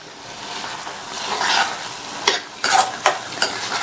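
Drumstick thokku with chopped coriander leaves being stirred in a pan, with a soft sizzle under a few scraping spoon strokes that grow sharper toward the end.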